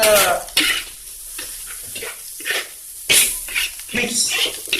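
Rice for nasi goreng kampung being stir-fried in a pan, with intermittent scraping strokes and clinks of a utensil against the metal over a soft sizzle, heard between pauses.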